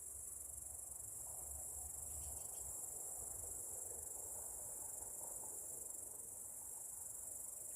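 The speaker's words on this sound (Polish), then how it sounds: "Teraz chwila dla stereo świerszczy." Crickets chirping in a dense, continuous high stereo chorus during an evening walk near Lubań above Szczawnica, steady and unbroken throughout with a faint low background rumble.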